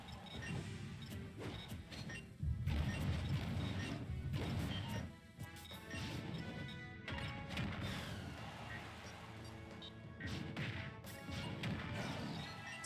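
Super Smash Bros gameplay in a collegiate match between Marietta College and Utica University, with Game & Watch on stage. Heavy smash hits land as loud crashing impacts amid busy game effects and music, with faint commentary underneath.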